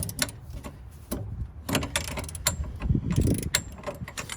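A tight coilover bolt on a Honda Civic being worked loose with a jack pole used as a breaker bar gives irregular metallic clicks, creaks and clunks. They sound close, moderately loud and uneven, with short bursts and pauses.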